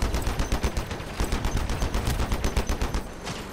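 Punisher weapons in the Crossout vehicle combat game fire in a rapid, steady automatic stream of loud, close shots, with no voices over it.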